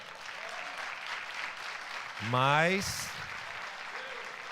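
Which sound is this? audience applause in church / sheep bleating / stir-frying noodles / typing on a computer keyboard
audience applause in church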